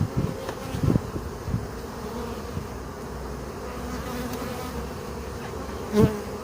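Honey bees from a breeding colony buzzing around an open hive, a dense steady hum close by with individual bees droning past the microphone and a louder pass near the end, no talking.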